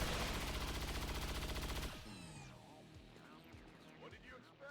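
Rapid chain shot gunfire from XCOM 2, a loud run of evenly spaced bursts for about two seconds, then fading into quieter scattered impacts and game effects.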